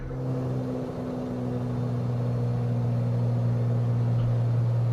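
A propeller aircraft engine in Flight Simulator 2020 drones steadily with a constant low hum and a faint higher whine, loud and unbroken throughout, without any talking.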